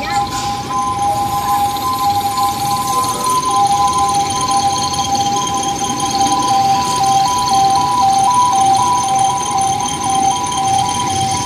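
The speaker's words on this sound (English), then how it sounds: "So it's an ambulance." An ambulance siren wails steadily on a rainy city street near a bus terminal at night, a loud sustained two-tone whine over a constant wash of rain and traffic, with a voice speaking faintly in the background.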